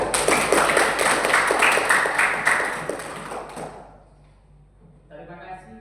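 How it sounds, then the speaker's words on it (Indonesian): A group of students in an Indonesian classroom claps together in a dense, steady burst of applause that fades out after a few seconds, followed by quieter voices talking. "Bagus semuanya, tepuk tangan."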